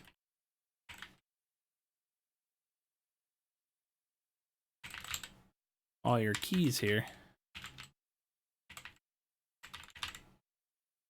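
Keys clack on a Kemove DK61 mechanical keyboard with clicky switches: sparse, crisp keystrokes and a short flurry of typing close up, separated by silent gaps, with one brief spoken word.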